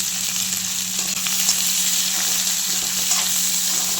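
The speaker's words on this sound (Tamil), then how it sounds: "பெரிய சைஸ் வெங்காயம் ரெண்டு வெங்காயம் சின்ன சின்னதாக கட் பண்ணி போட்டிருக்கேன் நல்லா கோல்டன் ஃப்ரை ஆகணும்" Chopped onions fry in a hot pan toward golden brown, giving a loud, constant close-up sizzle with small crackles and no voices.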